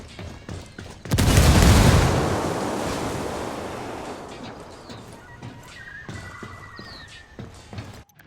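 A frag grenade detonates in the Ghost Recon Wildlands video game, a sudden loud blast that rolls into a long fading rumble, with scattered gunfire crackling afterward.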